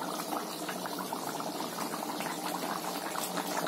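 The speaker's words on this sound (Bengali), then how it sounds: "চিনিটা দিয়ে একটু ফুটিয়ে নিই, তারপর ঘিটা দেবো" Vegetarian navratan korma simmers with sugar in a pot, a close, continuous bubbling and spluttering with no pauses.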